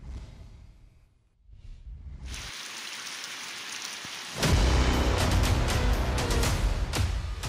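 Heavy rain pours down during flooding in Gwadar, Balochistan, building from a soft patter to a loud, dense hiss of rain on surfaces, with a few sharp drips and knocks.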